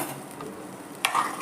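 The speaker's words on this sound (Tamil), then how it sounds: "இப்போ அரைச்சி வச்ச சாந்தெல்லாம் ஊற்றிக்கலாம்" Ground spice paste for a buttermilk curry is poured into a hot pan of fried chillies and sizzles steadily, with a sharp burst of hissing about two-thirds of the way through.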